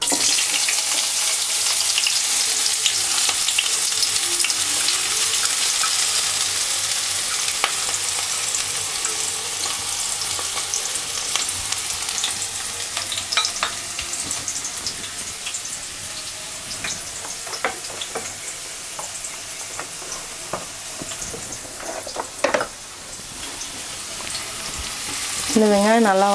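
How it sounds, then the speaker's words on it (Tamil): Chopped onions sizzle loudly in a hot pan for Tamil crab curry, a steady close frying hiss broken by scraping stirs and a brief clatter near the end. "இந்த வெங்காயம் நல்லா வதங்கட்டும்"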